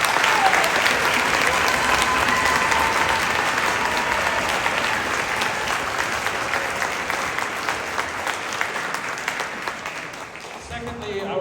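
Sustained applause from the audience at a Brevard school bands spring concert, dense and even, lasting many seconds before tapering off, with some crowd voices mixed in.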